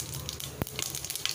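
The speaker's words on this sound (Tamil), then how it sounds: "எண்ணெய் சூடானதுக்கப்புறம் கொஞ்சமாக கடுகு," Mustard seeds sizzling in hot oil for a cucumber curry: a soft, brief crackle with one sharp pop, close and faint, no voices.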